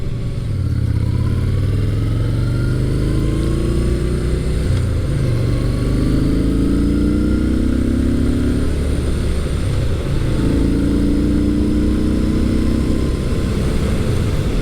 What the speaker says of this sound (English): Yeah, that motor feels nice.